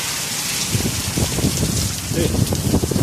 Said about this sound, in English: You see, guys, this is the rain. This is Potsdam.